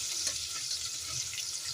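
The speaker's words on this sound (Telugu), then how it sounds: "పోపు మొత్తాన్ని ఇలా వేయించుకోండి" Chopped onion and turmeric in a tempering of spices fry in hot oil for a ponnaganti leaf dal, a quiet, steady sizzle with light stirring.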